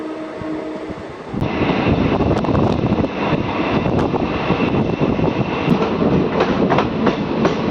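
A DEMU passenger train runs on the rails between Kacheguda and Nizamabad Junction, with a steady loud rumble and rhythmic clickety-clack of wheels over rail joints, heard from on board, rising sharply after a quieter opening second.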